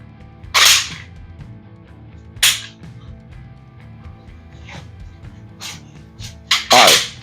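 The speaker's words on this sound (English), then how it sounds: "Let me show you some examples of what you could do for dry firing." Dry-fire practice with an unloaded gun during target acquisition drills gives a few sharp, isolated clicks and snaps spaced seconds apart, the last two close together, in a quiet room with no talking.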